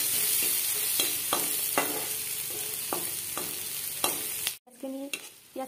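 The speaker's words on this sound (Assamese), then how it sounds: "পিঁয়াজখিনি ৰঙচুৱা হোৱাকৈ ভাজি লৈছোঁ" Onions fry in hot oil until browned, with close, loud sizzling broken by a regular series of spatula scrapes against the pan, then a brief drop and a short burst of sharper pan clatter.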